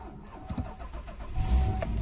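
A Korean van with a 2.4-litre V6 engine cranks and catches, settling into a loud, low idle in the second half after a brief starter whir.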